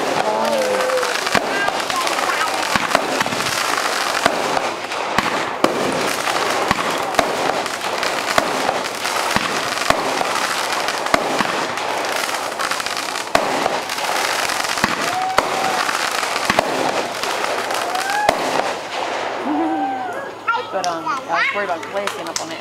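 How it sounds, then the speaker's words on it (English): Fireworks and firecrackers pop and crackle in rapid, dense bursts at a July 4th celebration on the Pamunkey Reservation, with children shouting and chattering close by throughout, then thinning out near the end. "There's going to be fireworks going on."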